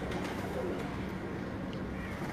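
A large-bodied pigeon coos softly close by, a brief low murmuring call over faint background noise.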